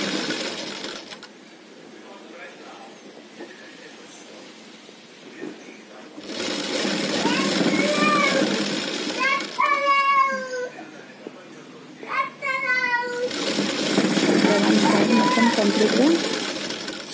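A sewing machine stitches satin and main cloth together along one side of a child's umbrella frock in two close, steady runs. A cat meows several times between them, and a voice speaks during quieter moments.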